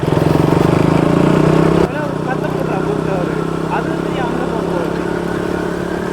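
A motorcycle engine drones loudly up close, then drops abruptly to a lower idle hum, with voices talking underneath.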